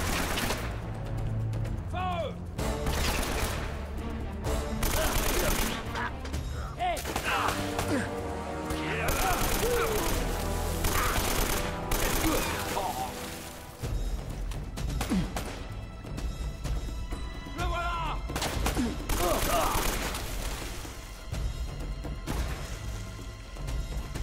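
Bursts of gunfire and impacts from Uncharted: Drake's Fortune on PS4 crackle throughout, dense and loud, mixed with game music and effects while someone talks over the action.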